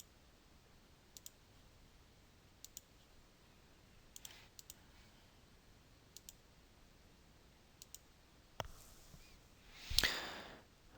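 Computer mouse clicks, about seven sharp, isolated clicks spaced roughly a second or two apart over a quiet background, close and crisp, followed by a couple of louder broadband rustles near the end.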